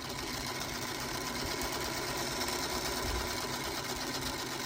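A sewing machine stitches a 5-inch Home Town quilt block, running as a steady, close, continuous mechanical whir and hum with no pauses or voices.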